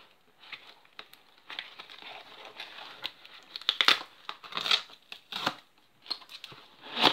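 Cardboard and plastic packaging of a DVD box set being opened by hand, soft crinkling, rustling and tearing in short irregular bursts, close and quiet.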